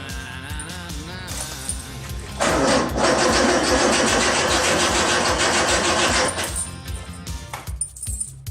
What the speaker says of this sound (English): So I'm gonna try to fire the car up, see if it fires up.